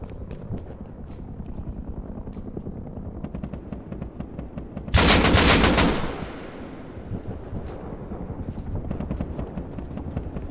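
A sudden loud burst of rapid gunfire in a multiplayer survival video game, about a second of dense shots over a low ambient rumble, then fading back to quieter background.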